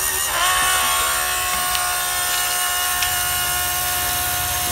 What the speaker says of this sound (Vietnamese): Bây giờ cháu bật máy nhá, bật máy để chạy xem bao nhiêu giây nó hút được cạn cái 16 lít này.